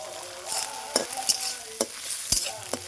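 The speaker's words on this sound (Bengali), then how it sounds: "একদম মুচমুচে করে ভেজে নেব দেখ" Flattened rice (chira) dry-roasting without oil in a pan with curry leaves, sounding as close, crisp rustling and scraping stirs over a light sizzle, several sharp clicks as the spoon strikes the pan.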